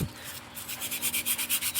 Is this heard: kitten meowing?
no